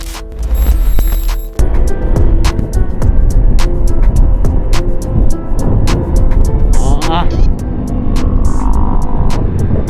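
A Honda ADV160 160cc scooter accelerates with a steady engine drone and throbbing hum, rising in pitch through the revs, with wind and road noise in the mix.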